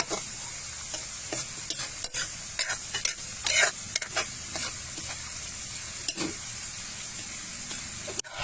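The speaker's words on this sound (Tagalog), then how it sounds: "Patuloy lang po itong haluin sa kumukulong mantika sa loob ng 10 to 15 minutes" Herbs being stirred steadily in boiling cooking oil, a continuous sizzle and bubbling hiss with repeated scraping strokes of the spoon throughout, close and fairly loud, no voices.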